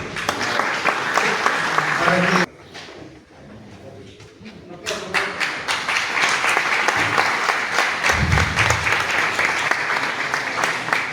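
An audience at a university history congress inauguration applauds to welcome an ambassador, loud dense clapping that breaks off, goes briefly quieter with murmuring, then resumes strongly and continues to the end.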